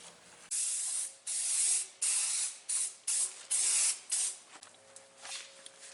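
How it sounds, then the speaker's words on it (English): Short bursts of black spray paint hiss from an aerosol can onto a motorhome hitch, about eight close, fairly even sprays in quick succession, each lasting around half a second. "Now you got to spray paint that black again."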